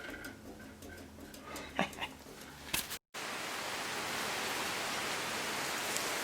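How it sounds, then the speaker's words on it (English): Steady rain pours outside a workshop as an even, close hiss, following a few scattered clicks and knocks at the start. "it's raining out there pretty good"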